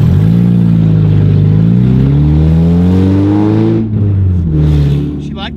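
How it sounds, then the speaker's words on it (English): A loud Mazda Miata engine revs up and holds a rising, throaty drone, then drops off briefly before revving again near the end. "Hey, do you think my car sounds cool?"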